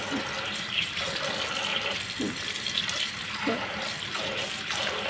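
Freshly picked beans being washed under a running tap: a steady stream of water with recurring splashes and sloshes as the beans are handled, close by.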